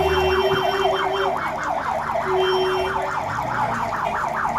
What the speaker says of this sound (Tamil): டிராபிக்கால் நோயாளியுடன் சிக்கி தவித்த ஆம்புலன்ஸ்.